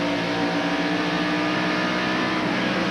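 Race car engine at a 1993 NASCAR Winston Cup road-course event at Watkins Glen, held steady and loud throughout with slight throttle blips, a continuous dense roar with no talk.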